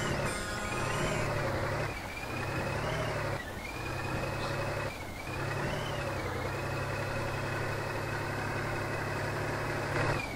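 A KrAZ Dakar truck engine in the off-road driving game Spin Tires revs steadily, its drone rising and dipping between throttle bursts, loud and continuous with no talking.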